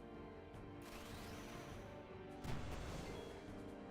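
The Sea Cannon attack lands in Final Fantasy X, giving a low, faint booming blast and rumble under the game's steady music, with a sharper hit partway through.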